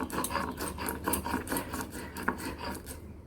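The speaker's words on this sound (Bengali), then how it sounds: "এগুলোকে আমরা এবার ভালো মতো করে পাটাতে বেটে নেব।" Roasted banana flower ground on a stone slab, a rhythmic scraping and rasping of stone against stone in quick repeated strokes, close and fairly quiet with no voices.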